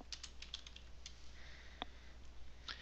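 Quiet typing on a computer keyboard, a light run of scattered key taps and clicks over a low steady hum, close and soft with no voices.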